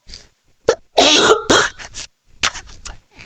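A person coughs in a few sharp, loud, close bursts with short pauses between them, followed by weaker throat-clearing coughs.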